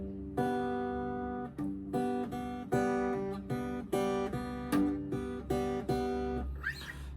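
Guitar fingerpicking the Hello Neighbour Act 3 theme, thumb and two fingers together, a repeating pattern of plucked notes in steady rhythm, close and clean with no voice.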